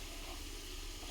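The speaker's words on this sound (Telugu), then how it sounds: "మీడియం వేడిలో ఉన్న నూనెలో 1 బై 1 ఈ బాల్స్ అన్నిటిని యాడ్ చేసుకోవాలి." Wheat flour gulab jamun balls frying in medium-hot oil give a dense, even sizzling hiss that stays steady throughout, close and continuous with no talking.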